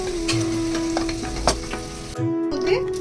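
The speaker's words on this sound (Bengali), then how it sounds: "ওই তেল ভাজার মধ্যে আমি আলুগুলো ভালো করে ভেজে নেব" Potatoes fry in hot oil, a steady close sizzle with scattered crackles and a few stirring scrapes, briefly dropping near the end before resuming.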